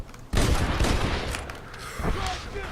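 Loud close gunfire from Red Dead Redemption: a sharp opening shot followed by a dense, echoing fusillade of overlapping reports that gradually thins, with faint voices mixed into the tail.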